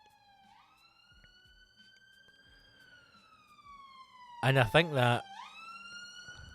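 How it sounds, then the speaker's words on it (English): An ambulance siren passes, a long rising and falling wail fairly loud and steady. Someone speaks briefly in a gruff burst near the end. "Fucking ambulance."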